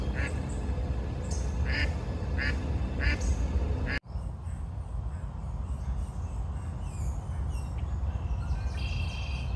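A duck quacks outdoors on a peaceful morning at Springbrook, a run of evenly spaced nearby quacks over steady outdoor noise, then after a sudden cut more scattered calls.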